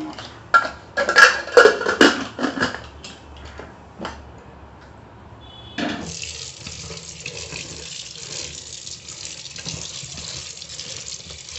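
Food being rinsed under a running kitchen tap before going into a pressure cooker: a few clattering knocks of handling come first, then a steady, close rush of flowing water fills the rest.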